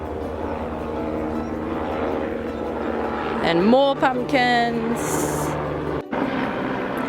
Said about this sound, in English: we have a helicopter going past at the moment